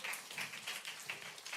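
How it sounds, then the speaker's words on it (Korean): A church congregation breaks into applause, a dense run of hand claps that rises and dips in several brief waves and stays close and steady throughout. "아멘이니까 우리 또 박수 우리 오늘 박수할 일이 많아요"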